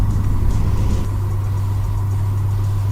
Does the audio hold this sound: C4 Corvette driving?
yes